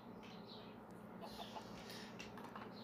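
Chickens from the Minecraft video game give soft, faint clucks that repeat at a low level across the short stretch. No one speaks over them.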